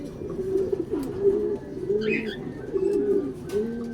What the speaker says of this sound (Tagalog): Dumating na yung mga kulelat kong ibon.